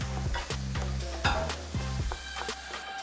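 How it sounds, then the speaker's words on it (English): Ground lamb sizzles in a hot pan over high heat while a spoon stirs and breaks it up, giving repeated scraping strokes over a steady frying hiss, close and fairly loud, with no talk. "Increase the heat to high, meat goes in. Use the spoon just to break the meat up a little bit."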